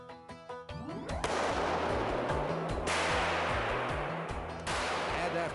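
A gun is test fired in a rig that uses a solenoid to delay the trigger. Sharp blasts and mechanical clatter sound over music, close and loud.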